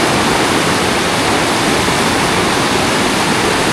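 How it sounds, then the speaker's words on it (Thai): A rushing river current in flood near a washed-out bamboo bridge, a loud, steady, broadband roar of fast-moving water close by, continuous with no pauses or voices. "มวลน้ำพัด กระแสน้ำพัดลงไปเลยนี่"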